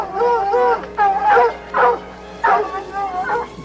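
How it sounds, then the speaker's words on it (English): Hunting hounds bay loudly and close while on a jaguar's trail, with several long, drawn-out howling calls coming in uneven bursts one after another. "As we followed the baying hounds,"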